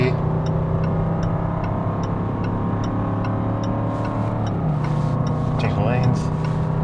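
A Range Rover Sport L494 pulls hard up through the gears on a highway while towing a trailer, its engine drone rising steadily under loud road and wind noise, with a shift near the end as someone talks over it.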